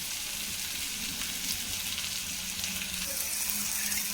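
Water hisses and sizzles as it hits a hot pan, a steady bubbling rush close by, with no one speaking.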